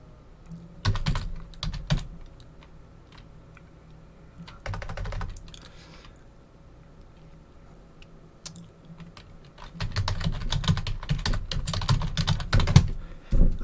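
Keys clatter on a computer keyboard in bursts of quick, close tapping, with a pause in the middle and a longer, denser run of keystrokes near the end.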